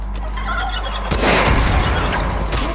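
Turkey gobbling in the video game Far Cry 5, a loud, close, rapid warbling gobble over steady game background noise, rising in intensity partway through.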